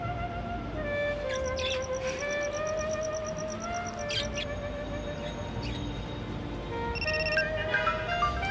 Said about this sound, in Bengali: আপনার ফোন বাজছে বলে।